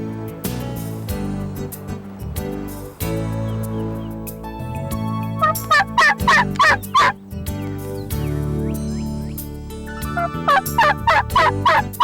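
Wild turkey gobbles in spring woods, several loud rattling bursts in two clusters near the middle and end, heard over a music bed with no talking.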